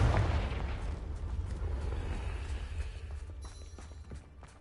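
Confringo fire spell cast in Hogwarts Legacy, a loud explosive burst with a deep boom up front that fades into a rumbling tail with a few small crackles.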